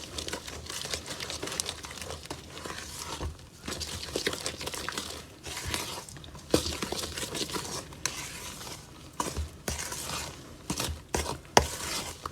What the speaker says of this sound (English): Stir it all up.